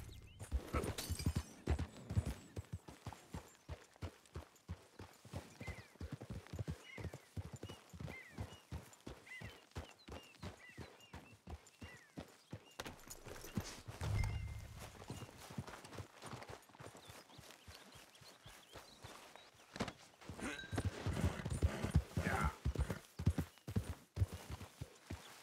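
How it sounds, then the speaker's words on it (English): Hooves clip-clop in a steady, rhythmic walking pace for a long stretch in Red Dead Redemption 2, with a brief snort partway through and a louder burst near the end. "Tell me that horse has got the better of you."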